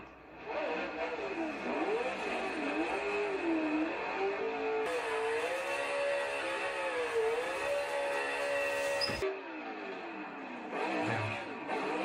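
A V8 engine in a drift car, an FD, in a racing video game on a drift layout, revving steadily and wavering in pitch as the throttle rises and falls, loud and continuous with a brief drop near the end.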